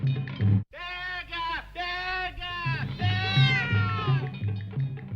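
Several cats meowing in a row over a busy street-like background, the cries loud and close with rising and falling pitch, plus a few lower scattered sounds beneath.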